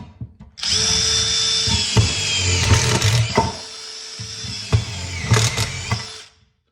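A SuperDrive Mach1 autofeed screw gun whines loudly as it drives a screw into steel, a sustained high motor buzz with clicks and brief pauses.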